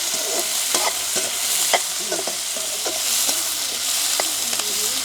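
Sliced onions and green chillies tossed in hot oil: a loud, close, steady sizzle with frequent spatula scrapes and clicks against the pan, and no talking.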